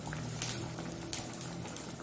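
Tempering for Mangalore-style menthi pathrode sizzles steadily in the pan, a continuous close crackling hiss with small popping bursts and no talk.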